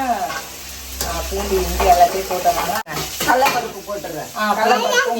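Garlic and ginger sizzle and crackle in hot oil in a frying pan while being stirred, a steady close frying hiss with a brief break midway, as people talk over it.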